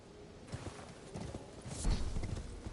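Horse hooves in the Elden Ring video game clatter in a quick galloping clip-clop rhythm, moderately close and fairly quiet, with no talk.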